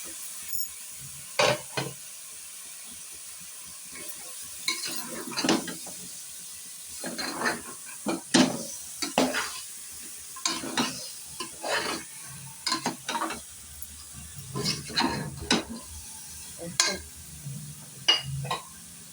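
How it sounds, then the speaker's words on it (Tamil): Goat head meat being stirred and fried with masala in a pan, repeated scraping stirs against the metal in irregular bursts over a soft continuous sizzle, close and moderately loud. "இந்த தலைக்கறியை நம்ம போட்டுருவோம் போட்டு மசாலாவோட நல்லா பரட்டுவோம்"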